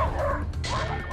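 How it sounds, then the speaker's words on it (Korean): A whippet barks and whines in a park, a loud, continuous run of yelping and howling vocalizations close by with no pauses. "딱 이게 공원의 평화를 무참히 깨버리는 루이의 울부짖음"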